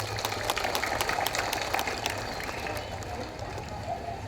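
An audience at an oath-taking ceremony for government contract employees in Subang, West Java, claps steadily in a dense, moderately distant patter with a low hum underneath.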